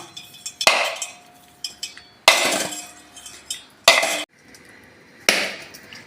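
A coconut wrapped in rubber bands is struck with the upper piece of a grinding stone: four loud, sharp hard knocks spaced about 1.5 seconds apart, with lighter taps between, close up and with no talk.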